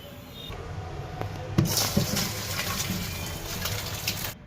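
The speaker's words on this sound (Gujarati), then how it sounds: "હવે આને પાણીની બહાર કાઢી લઈએ" Boiled spinach leaves, cooked ten minutes in whole spices, lifted out of a pot of hot water, with steady splashing and dripping and a couple of louder sloshes near the middle, close and continuous throughout.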